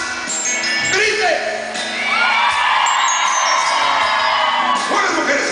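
A crowd of women at an outdoor concert show in Tlatlauquitepec shouts and whoops loudly together in a sustained, raucous roar, with sung and shouted voices and amplified music mixed in.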